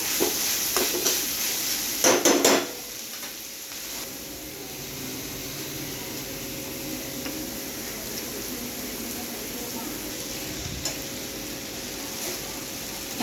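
Schezwan fried rice being stirred and fried in a pan, a steady close sizzle throughout with a few louder scraping clatters of the spatula early on, no talking.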